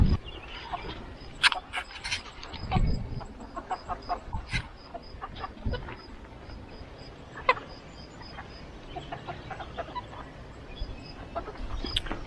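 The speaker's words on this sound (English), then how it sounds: "Gonna treat the chickens, see how they enjoy some of these weeds" Backyard chickens cluck and peck as they are fed a handful of garden weeds, with scattered close clucks and short calls over a quiet outdoor background.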